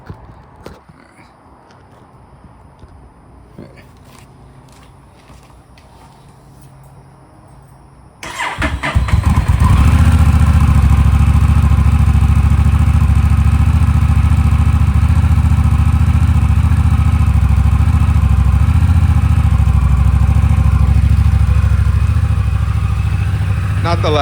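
A 2025 Honda Rebel 1100T fitted with a Coffmans Thunder exhaust, quiet at first, then the engine fires up and settles into a loud, steady, smooth idle close by.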